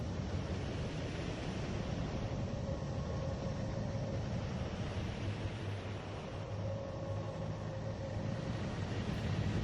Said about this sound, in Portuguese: Agora vamos escutar o som emitido pelo planeta Netuno.